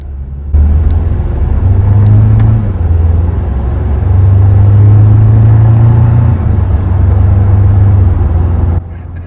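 Toyota Tacoma SR5 engine fitted with a Banks intake, heard from inside the cab while driving: a loud low rumbling drone that swells twice as the engine revs, with a faint high whine above it.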